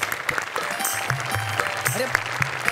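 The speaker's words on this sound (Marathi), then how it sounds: "टाळ्या वाजवा." Studio audience clapping on a comedy show stage, a steady crackle of claps with sharp louder hits, while voices talk and exclaim over it throughout.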